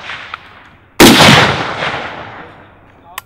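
A single loud M1 Garand rifle shot cracks out and rings into a long decaying echo outdoors, with a faint click before it and another small click at the end.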